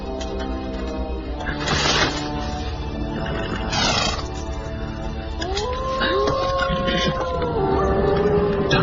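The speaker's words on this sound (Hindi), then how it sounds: "डरो मत, ये भेड़ियों की आवाज है।" Wolves howling as a sound effect in the Hindi-dubbed film Jumanji, rising and falling long wavering cries layered over a dense, loud background score, with an extended howl that sustains and bends near the end.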